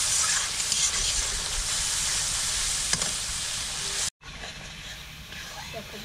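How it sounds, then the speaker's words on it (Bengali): Spice paste with chilli powder sizzles and hisses steadily as it fries in oil for a spicy Andaman sea fish curry, with a brief dropout near the end before the sizzling resumes. "দেখো মশলাটা বেশ ভালো ভাজা হয়ে গেছে।"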